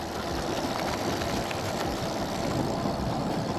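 An eBike ridden under throttle on a hardtail through woodland gives a steady, continuous rush of motor and riding noise, fairly close and unbroken throughout, with no voices.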